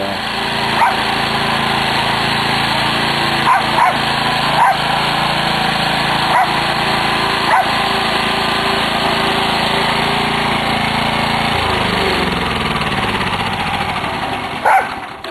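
A rented garden tiller churns soil outdoors, its engine running steadily and loudly throughout with a continuous rough drone, occasional sharp knocks and a brief drop in load near the end.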